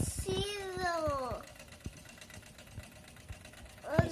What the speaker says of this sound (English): That engine is really pumping.